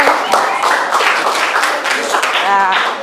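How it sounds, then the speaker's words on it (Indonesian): A classroom group claps for several seconds, a dense, steady patter of applause mixed with voices and chatter throughout. "beri tepuk tangan"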